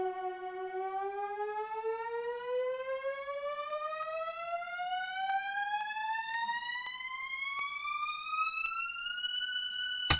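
A synth layer transposed up two octaves for a track, sweeping upward in one long, smooth rising pitch glide with a thin buzzy tone, steady and alone, ending with a brief click.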